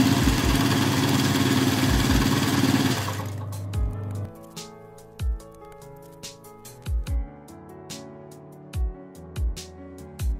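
Sewing machine stitching rows on a bucket hat, a steady loud whirring run for about three seconds that stops, followed by scattered clicks and thumps of handling the fabric and machine.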